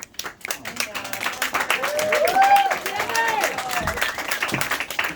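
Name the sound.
audience applause after open mic performance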